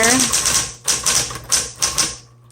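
A 1960s Smith Corona Coronet manual typewriter clacks in short rhythmic bursts of keystrokes, each cluster separated by brief pauses, close and clear.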